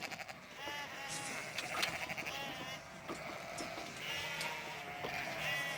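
Lambs and ewes bleating as they are loaded onto a truck in New Zealand mountain country, many overlapping calls repeating throughout, close and fairly loud.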